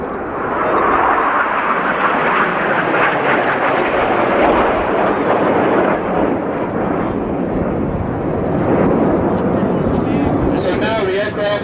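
Eurofighter Typhoon fighter jets passing overhead at an airshow, a loud, sustained roaring rumble that swells and holds for several seconds, with a commentator talking over it.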